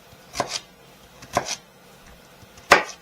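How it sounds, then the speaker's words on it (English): Knife cutting food crosswise into quarter-inch fry-shaped pieces: three crisp chops against a board, spaced about a second apart, the last the loudest, close-up in a quiet kitchen. "So now I'm going to just cut it across."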